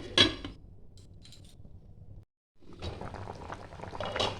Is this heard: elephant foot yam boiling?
yes